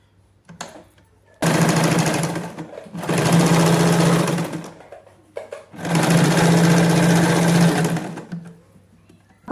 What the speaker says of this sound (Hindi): और यहां पर हम स्टिच लगाएंगे।